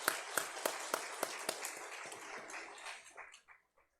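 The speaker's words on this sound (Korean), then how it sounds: "축하 박수 한번 쳐드릴까요?" A church congregation claps in celebration for missionaries: sharp, rhythmic claps in unison that loosen into scattered clapping and die away over several seconds.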